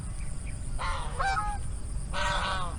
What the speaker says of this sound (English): Hopefully the geese aren't too noisy.